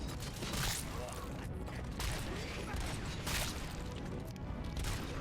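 Pistol gunfire in the RoboCop: Rogue City video game, a dense run of loud, close shots and impacts over a constant roar of game noise and mechanisms.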